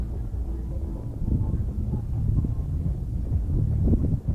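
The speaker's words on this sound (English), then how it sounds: "that the wind is in the background because it's all around us" Wind blows outdoors, a steady low rumble and buffeting against the microphone that swells and eases, fairly loud and continuous with no other clear sounds.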